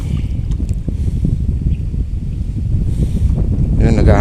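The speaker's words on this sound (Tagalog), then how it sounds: "Yun, naghahangin na naman." Strong wind buffets the microphone steadily at a tilapia and carp fishing spot on the water, a loud continuous low rumble with gusty flutter that swells toward the end.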